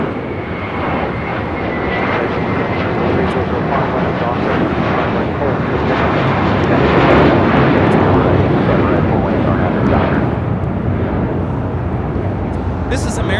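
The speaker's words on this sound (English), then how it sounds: "2656 taking off to Los Cabos on an A321." American Airlines A321 taking off from LAX bound for Los Cabos, a loud, sustained jet engine roar that swells and then holds steady for the whole stretch, with no voices over it.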